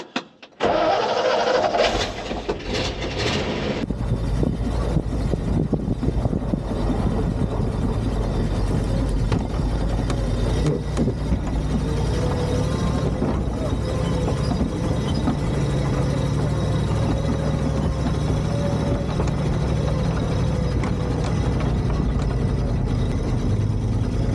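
A 1960 Ford F600 barn find truck engine starts and then idles and runs steadily as the truck reverses, giving a loud, close, continuous mechanical rumble with no voices.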